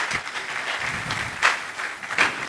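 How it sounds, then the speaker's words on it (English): Audience applause at a quantity surveyors' annual gathering as the next speaker takes the mic, a steady wash of clapping with two brief louder swells, no talk over it. "Please, let's keep clapping until he takes the mic."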